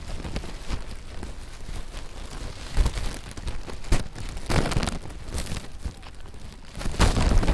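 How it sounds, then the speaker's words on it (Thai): Rain pouring down outdoors, a constant hiss with sharper drips and patters striking nearby surfaces, occasional louder gusty bursts, fairly close and steady, no talking. "ฝนตกอย่างนี้เราสบายแล้ว"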